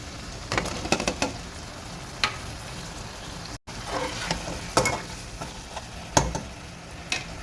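Food cooking in a pot on a home stove, with a soft steady sizzle and scattered clinks and scrapes of stirring heard up close, no talk.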